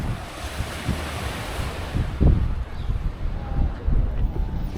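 Sea waves wash against the shore at Caesarea in Palestine, a steady roar of surf with rushing swells and wind buffeting the microphone, heard alone and fairly close.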